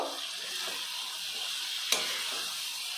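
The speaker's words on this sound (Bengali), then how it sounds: "আমি এখন ঢাকনাটা খুলে নেড়ে চেড়ে নেব" Vegetables cooking with a hilsa fish head for a village-style chachchari are stirred in a pan, with a continuous soft sizzle and one sharp clank of the utensil partway through.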